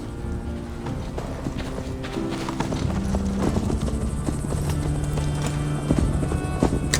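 Horse hooves clip-clop steadily during a ride in Assassin's Creed Valhalla, a continuous rhythmic trot set against a constant ambient and music bed, with no talk over it.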